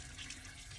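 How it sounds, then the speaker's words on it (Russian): Water runs steadily from a tap in an apartment for sale in Osh, a quiet, even hiss with no voices. "Давайте посмотрим напор воды."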